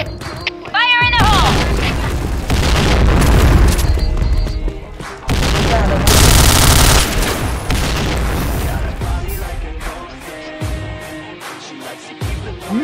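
Heavy booms from grenade blasts and bursts of gunfire fill a Point Blank online shooter match, loud and close with repeated impacts and crashes, overlaid by shouted game voice lines.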